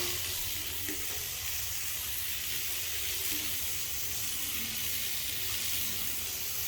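Steady hiss of water sprayed onto car paint coated with Turtle Wax classic wax, a continuous close spray with no talking.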